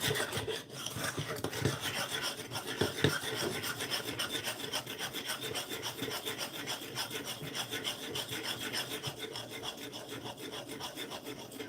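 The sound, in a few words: stirring a mixture in a bowl by hand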